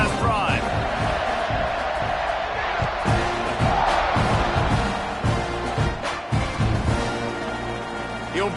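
A home football crowd roars steadily through a game as the kickoff unit takes the field, a dense wash of cheering and shouting with a few sharper bursts and claps, loud and unbroken throughout.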